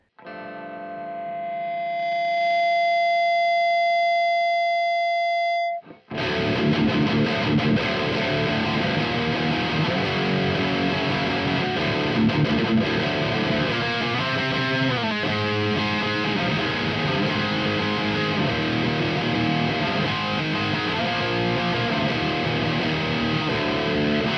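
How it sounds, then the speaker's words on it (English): Heavily distorted electric guitar through a Randall RX120RH 120W amplifier: a sustained note rings out alone, then thick, chunky chords play continuously and loudly. "It's a big, thick, chunky kind of sound"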